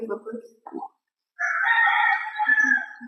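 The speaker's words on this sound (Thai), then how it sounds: "ไก่แจ้ขันกันใหญ่เลย" Bantam roosters crow at Wat Umong temple in Chiang Mai, with short clucks and calls first and then one long, loud, close crow that trails into softer clucking.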